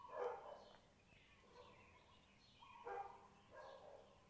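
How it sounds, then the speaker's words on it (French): Neighbours' dogs bark faintly in the distance during an indoor yoga session, a few spaced barks in small clusters over a quiet background. "On se laisse peut-être aussi porter par les douces paroles de mes voisins les chiens"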